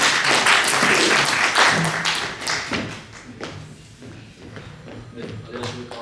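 Applause from an audience at a Korean-American New Year prayer breakfast as a council president is welcomed to the stage, with clapping fading over a few seconds under footsteps, thumps and a speaking voice.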